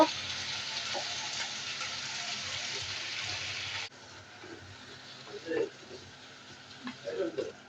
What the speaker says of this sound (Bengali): এগুলো এখন কষানো হোক, আবার ঢেকে দেব।